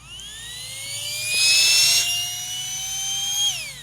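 A portable air blower for inflatable mattresses whines at one steady speed, its pitch rising as it spins up, holding a high motor tone with a rushing airflow swell midway, then dropping as it winds down, close up with no speech.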